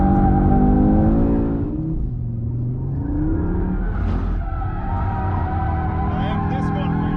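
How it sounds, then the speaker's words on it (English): An Audi RS3, a 2022 all-wheel-drive model with 400 hp, drifts with a loud, steady engine drone and rising tire squeal. A voice talks over the car noise throughout. "A lot more tire squeal too."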